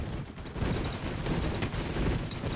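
Auto cannons and Gatling guns firing together in the airship battle game Airships: Conquer the Skies, a dense, continuous barrage of overlapping rapid shots that stays loud throughout.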